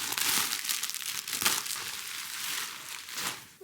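Scissors and hands opening a package, with rustling, crinkling plastic and paper and a few sharp snips and tears, close and fairly quiet, no one talking.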